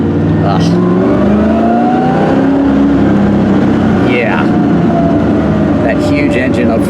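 A 1978 Porsche 928 with a large front-mounted engine and five-speed manual drones steadily while driving, a loud constant engine and road noise heard from inside, with someone talking over it.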